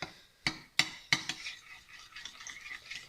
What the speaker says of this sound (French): maintenant vous videz votre lait et vous allez mélanger encore une fois